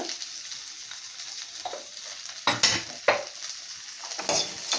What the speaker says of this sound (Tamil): இது கொஞ்சம் உப்பு போட்டு முதல்ல வறுத்துட்டோம்